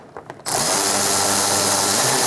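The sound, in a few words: power tool tightening fan assembly bolts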